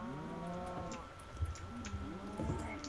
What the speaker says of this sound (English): Why is this cow on the wrong side of the dirt?